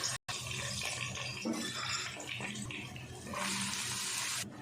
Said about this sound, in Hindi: अब इनका पानी मैं निथार लेती हूँ।